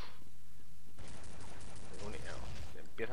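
Shotgun fire in the video game Counter-Strike: Condition Zero, a loud blast breaking in after a quieter moment and followed by dense, sustained gunfire and noise.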